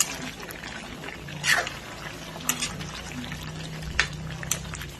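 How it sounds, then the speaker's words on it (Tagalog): Duck kaldereta stew bubbles and simmers in a pot, a low steady gurgle with occasional louder pops and splashes, close up. "Kumukulo na po."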